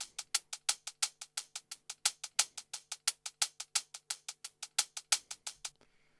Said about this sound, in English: I have this hi-hat loop, which is actually from my drum pack, Drum Essentials by Gabiga.